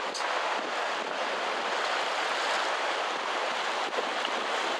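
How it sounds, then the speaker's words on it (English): Waves on a lake in Zurich wash in a continuous loud rushing surge, close to the microphone and mixed with wind buffeting, with no voices. "Waves are loud."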